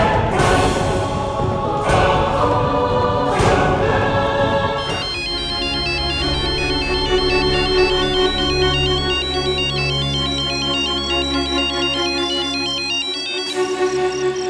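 A phone ringtone plays a repeating electronic melody, loud and close, starting with a few struck chime-like notes before settling into a steady looping tune.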